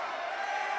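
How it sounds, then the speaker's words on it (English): Crowd at a girls' high school basketball game reacting to an air ball, a brief steady murmur and groan of many voices, moderately loud and without a clear peak. "And the crowd's going to let her know it"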